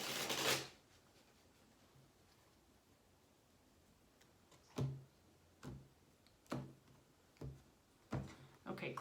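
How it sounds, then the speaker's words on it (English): Tarot deck shuffled by hand during a Leo love reading: a broad riffle burst at the start, then a run of sharp, fairly close card snaps and taps at irregular intervals over quiet room tone, with no talking. "Let me give it one more shuffle."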